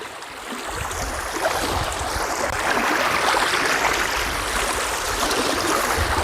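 Water rushes steadily through a forest stream near Mamalakandam in Kuttampuzha, a loud, continuous broadband wash with no voices over it.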